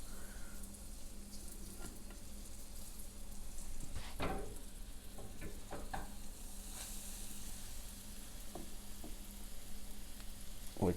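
Crab cakes go into a pan at medium heat and sizzle steadily, a constant bright frying hiss with occasional small crackles and pan taps.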